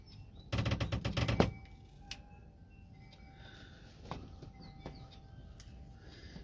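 A quick burst of crinkly, clicking snips as scissors cut through foil, then a few quieter isolated snips and rustles.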